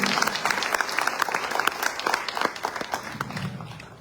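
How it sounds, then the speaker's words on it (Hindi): Audience applause for poet Dinesh Raghuvanshi at a Teacher's Day kavi sammelan, sustained clapping from a large crowd with sharp individual claps standing out, steady throughout. "2000 तालियां दिनेश।"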